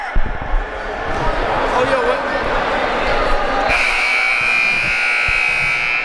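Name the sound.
basketball game buzzer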